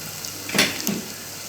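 Onions fry in a pan while a utensil stirs them, giving a soft sizzle under a quick scraping swish and a second lighter scrape.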